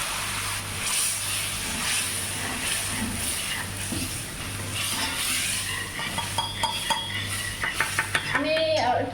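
Spiced goat lung (fepsa) being cooked in a home kitchen: a metal utensil scrapes and stirs against a pan over a low sizzle and steady hum, with clinking strikes growing busier toward the end.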